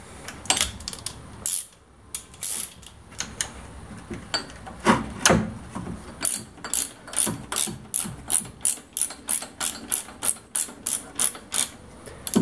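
A hand ratchet loosens a bolt on the AC compressor of a VW Golf 3, giving quick clicking strokes in irregular bursts, then a steady run of regular close ratchet clicks.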